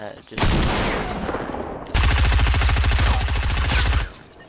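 Rapid automatic gunfire in a multiplayer shooter match with a hiding mode, loud bursts of shots in a steady rattling rhythm from about two to four seconds, preceded by dense noisy effects.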